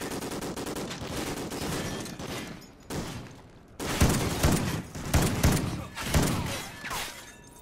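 Repeated shotgun blasts in Call of Duty: Ghosts, loud booming shots in uneven bursts over busy battle noise, with a denser cluster of close heavy shots in the second half.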